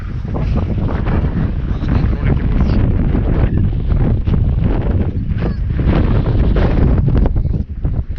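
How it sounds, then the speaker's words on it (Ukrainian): Strong wind roars and buffets the microphone continuously, loud and close, masking most other sounds. "Боже, оце вітер"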